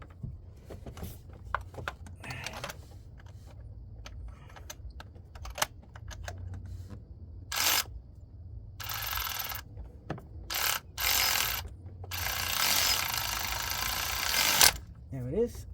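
A ratchet tightens spark plugs on a 2016 Ford F150, with bursts of rapid metallic clicking, some short and some drawn out, close and fairly loud amid clanks of tools, with someone talking at times.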